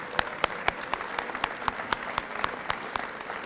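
School hall audience applauding students at a high school hall of fame event: a broad wash of clapping with a few sharp, evenly spaced loud claps standing out near the front.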